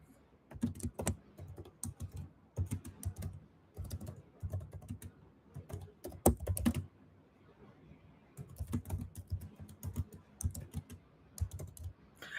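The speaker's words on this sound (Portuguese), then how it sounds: "Tô digitando, tá, gente?" Fingers typing on a computer keyboard, quiet, close clicking in uneven bursts with short pauses between runs of keystrokes.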